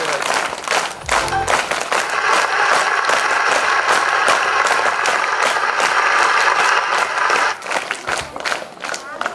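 Audience at a government girls' high school annual function claps loudly and continuously for several seconds, dense applause with crowd noise and some talk mixed in.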